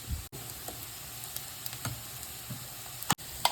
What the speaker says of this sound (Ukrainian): висипаємо цибульку та морковку. Смажимо хвилин 5.